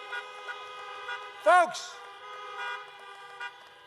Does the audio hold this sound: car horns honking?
yes